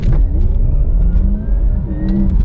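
A Porsche Taycan Turbo electric sports car accelerating hard from 20 to 60 mph, its motor whine climbing steadily in pitch over a heavy low rumble, loud and close throughout.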